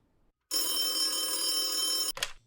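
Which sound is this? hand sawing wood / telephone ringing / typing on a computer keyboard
telephone ringing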